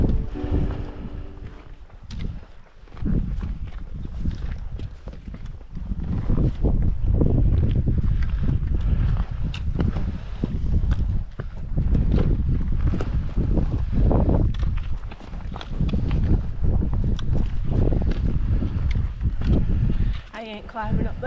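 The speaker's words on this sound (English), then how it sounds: "I don't know if you can hear me over the wind" Strong wind roars and buffets a microphone on a rocky mountain summit, gusting loudly and steadily with brief lulls, while a person talks over it.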